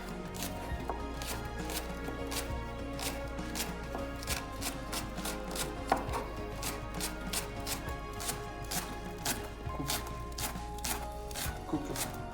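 Spring onions being chopped on a board for taboulé, rapid close knife taps in a steady rhythm throughout, faint room noise beneath and no talking.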